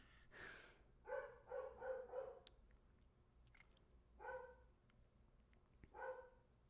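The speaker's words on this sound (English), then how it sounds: "That's the dog." A dog barks in a quiet indoor room: a short burst of several quick barks, a pause, then two more single barks spaced apart, moderately close.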